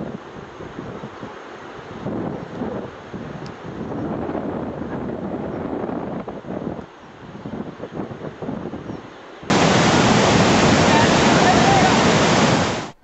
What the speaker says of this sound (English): Now look at the flood on one of those rivers, which was small and narrow at the time of coming.